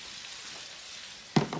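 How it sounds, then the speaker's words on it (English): Ground beef sizzles in a hot pan, a steady soft hiss of frying, close by, broken near the end by a sharp stir or scrape. "I'm starting to cook down my ground beef"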